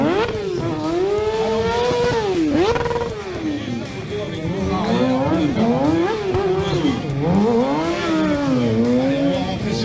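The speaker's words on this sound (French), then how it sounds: "Écoutez le régime moteur. Il met du gaz." A motorcycle engine revs up and down repeatedly, its pitch rising and falling in quick swells, loud and close with a voice talking over it.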